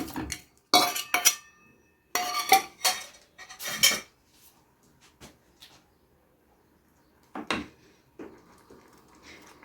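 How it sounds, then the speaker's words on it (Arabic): Meat goes into a metal pot for an okra and meat stew, bringing sharp clanks and clinks of utensils against cookware in a few close bursts, followed by quieter scraping and a last clatter. "هننزل باللحمة."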